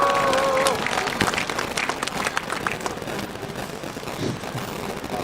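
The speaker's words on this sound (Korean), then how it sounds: "뜨거운 박수로 맞이주시면 합니다" A crowd at an outdoor candlelight protest rally applauds steadily, a dense, even roar of clapping that fills the whole stretch, loud and close, with scattered voices mixed in.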